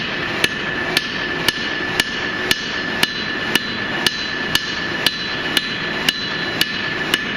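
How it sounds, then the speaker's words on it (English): Hammer blows ring on an anvil while an axe is forged, sharp metallic strikes falling in a steady rhythm about every half second, loud and close over a low background hum. "I'm using a half-face blow into the corner of the anvil."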